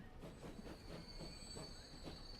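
A passenger train in the video game Transport Fever rumbles past quietly, with a rhythmic clatter of wheels over rail joints under a thin, steady metallic whine.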